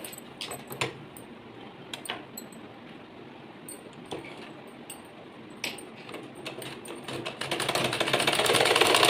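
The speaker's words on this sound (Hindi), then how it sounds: "अब हम जैसा ये डिज़ाइन हमारा बन रहा है उसी हिसाब से हम यहाँ पर सिलाई लगाएंगे" A sewing machine stitches along a buckram-backed neckline design, with short bursts of rapid mechanical whirring broken by pauses and small clicks, building into a steadier run at the end, close and without voices.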